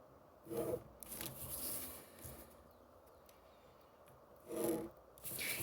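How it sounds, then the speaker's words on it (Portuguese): Pen or marker strokes scraping across paper while graph axes are drawn by hand, two short firm rubbing bursts separated by a quieter stretch of faint scratching, close and intimate with no talking. "Vou desenhar os meus eixos."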